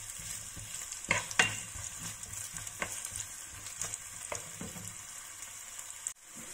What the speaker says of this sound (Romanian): ceapa, o lăsăm puțin să se moaie